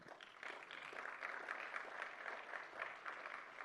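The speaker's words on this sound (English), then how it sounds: "Let's give another round of applause for Jesse and Catherine." Audience applause for Jesse and Catherine at frENSday 2024 in Bangkok, Thailand: a steady, fairly faint wash of many hands clapping, even in density for the whole stretch with no voices rising above it.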